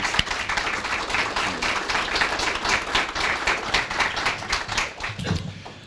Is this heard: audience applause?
yes